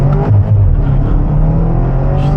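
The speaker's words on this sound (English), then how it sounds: "put it in M mode, sport, paddle down, full manual, and just kind of give you a sample of what this car can really do" A 555 hp E70 BMW X5M SUV accelerating hard in manual sport mode with paddle shifts, a loud close engine roar that rises in pitch, then a brief shift.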